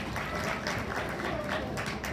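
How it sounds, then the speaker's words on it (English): A livestock show audience gives a round of applause for two Berkshire swine class winners: an even, continuous patter of many hands clapping, fairly distant and soft. "We'll give a big round of applause for our two class winners out here in our Berkshire Drive."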